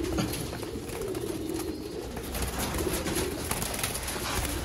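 Rare Sialkoti chuha pigeons coo in soft, repeated low rolling calls that overlap steadily at close range, with no voices.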